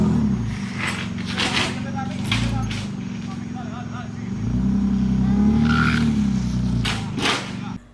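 Car engine starts and settles into a steady low idle that swells toward the end, with people talking over it throughout.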